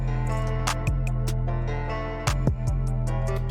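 A looped hip-hop beat made for beginners rolls on with a deep, sustained bass, crisp hi-hats and bright percussive hits. Partway through, a beat-cut variation briefly chops the drums before the loop carries on. No one speaks.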